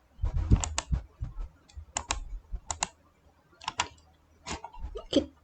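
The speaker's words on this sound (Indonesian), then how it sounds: "Kita ketik di sini" Keys tapped on a computer keyboard in short irregular bursts, crisp clicks clustered in quick runs with brief gaps between them, close and clear with no voices.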